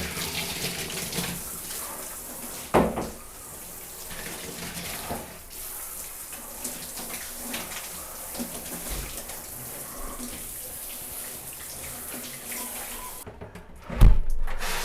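Water spraying and running over the glass and tiled walls of a shower cabin as it is rinsed after scrubbing, a steady wash of flow with a few brief knocks and bumps, heard close with no talking.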